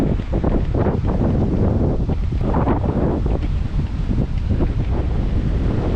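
Strong wind roars and buffets the microphone steadily and loudly throughout on a white-sand beach in Aurora Province, with a faint wash of surf underneath.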